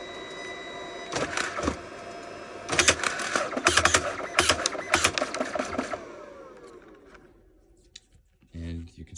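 A DNP 60 photo printer prints photobooth strips, giving a series of loud mechanical clicks and whirring feed bursts that fade into a quiet motor hum, with a brief voice at the end.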